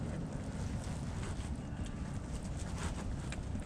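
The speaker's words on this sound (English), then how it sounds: "Jeez, wind's upsetting." Strong wind buffets the microphone at a gravel pit, a dense, loud rumbling roar with gusty bursts through the whole stretch.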